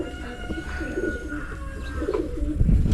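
Pigeons coo steadily inside a pigeon loft, several birds overlapping in a close, continuous murmur, with a few soft thumps of movement toward the end.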